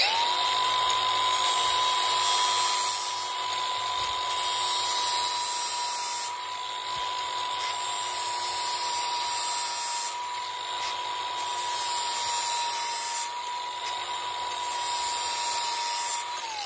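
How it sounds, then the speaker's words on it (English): Hand grinder sharpening a Fiskars Husky splitting axe, a loud steady high-pitched whine in several long passes with brief dips between strokes, close and without talk. "I take my grinder and hold it at one level."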